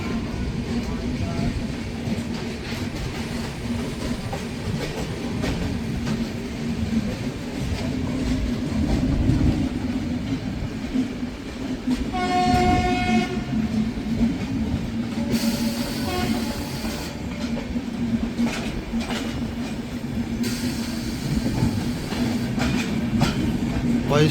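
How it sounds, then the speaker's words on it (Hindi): An Indian express train, the Jaipur Hyderabad Gorakhpur Express, rolls past at close range with a steady heavy rumble and clatter of wheels. Its horn sounds briefly in the middle and whistle-like tones follow later. "सामने जा रही है अपनी जयपुर हैदराबाद गोरखपुर एक्सप्रेस।"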